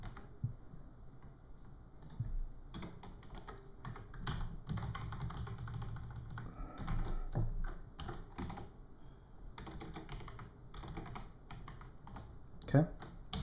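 Quiet, steady typing on a computer keyboard as code is entered, soft clicking keystrokes running continuously in bursts close by, with no talking.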